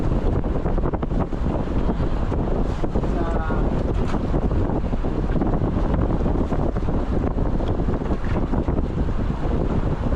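Strong wind buffets the microphone in a constant roar, with rushing water and the rumble of a fishing boat at sea on the Pacific beneath it, in bad weather.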